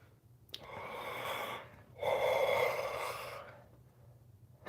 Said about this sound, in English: He's panting like a dog.